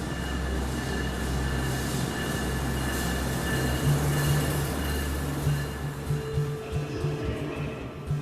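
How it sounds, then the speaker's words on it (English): A train pulls in as part of an outdoor augmented-reality art installation, its steady low rumble and rolling wheel noise filling the scene continuously, with faint squeal tones rising above the drone. "you'll see a train pull in after I pretty much painted the whole environment here"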